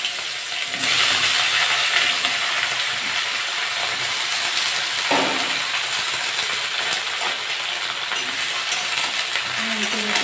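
A loud, steady sizzling hiss of eggplant frying in hot oil with neem leaves fills the whole clip, with a brief clatter partway through.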